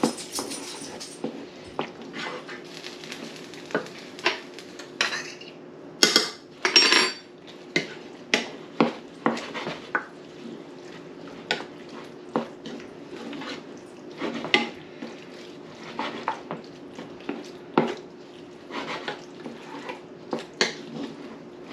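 Utensil scraping and clinking in a skillet as ground beef is stirred on the stove for a teriyaki beef dish, repeated sharp metallic knocks and scrapes in an uneven rhythm, close and fairly loud with no talk.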